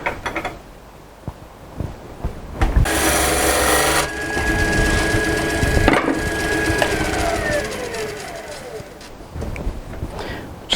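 A woodturning gouge cuts a tenon on a spinning bowl blank on a lathe, giving a loud, sustained rasping shave that runs for several seconds, with a rising whine near the end as the cut tapers off.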